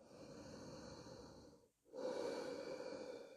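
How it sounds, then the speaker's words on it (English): During prenatal Ashtanga yoga, a slow, deep breath is heard up close: a long airy exhale, a brief pause, then another full breath, with no talking. "Deep breathing."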